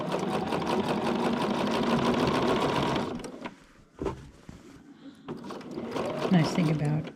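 A sewing machine runs a long seam in a steady rapid stitching burst for about three seconds, then stops; a movie soundtrack with voices plays in the background throughout.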